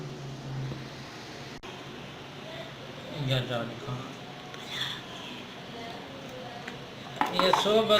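Roti being pounded and crushed by hand for sohbat, mixed on a plate, giving soft repeated thuds and scraping with a louder burst of crushing at the end, close by.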